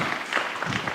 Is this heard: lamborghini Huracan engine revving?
no